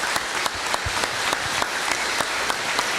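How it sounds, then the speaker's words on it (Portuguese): At a Portuguese-language church service in Ariquemes, Rondônia, a congregation applauds the Lord: a dense, steady wash of clapping with a few sharper claps popping out at regular intervals. "Vamos aplaudir o Senhor bem forte."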